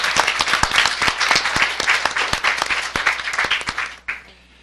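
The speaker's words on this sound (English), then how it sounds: "Please give them a round of applause" A seated audience at a library launch event applauds in dense, steady clapping for about four seconds, loud and close, before it cuts off and fades.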